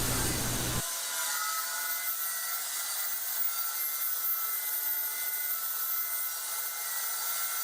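Wood being sawn into angled pieces for a table saw dust collection fitting, heard as a steady, loud, continuous rasping cut that runs unbroken after a brief low thump at the start.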